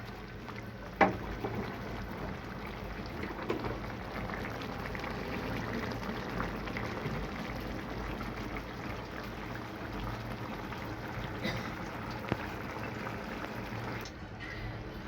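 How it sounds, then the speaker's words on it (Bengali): Prawns simmer in a coconut malai curry sauce, giving a steady, soft bubbling hiss with a single sharp tap near the start. "এরকম করে বন্ধুরা আমি কিছুক্ষণ মাছগুলিকে রান্না করে নিচ্ছি"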